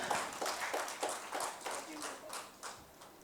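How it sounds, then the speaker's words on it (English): Conference audience clapping for a panel of speakers, a moderate crowd applause with distinct rhythmic hand claps, fairly soft and steady throughout. "May we also request you to please continue the applause for all our eminent panelists who are here with us"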